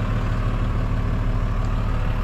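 Tractor engine driving a seed drill turbine while sowing sorghum and sunflowers, a loud, close, continuous low drone that holds steady throughout.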